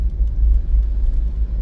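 A car rolling slowly along a coastal road near Glenelg, Adelaide, its low engine rumble steady and close from inside the cabin, with no talk.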